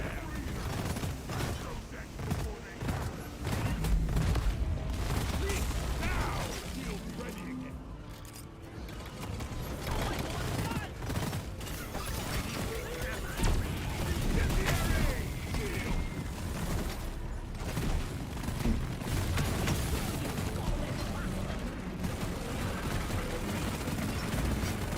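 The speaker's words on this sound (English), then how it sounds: "I actually ran out of bullets with the burst pistol" Burst pistol gunfire in a video game, rapid repeated shots and mechanical clatter running continuously and loud under dense game sound effects.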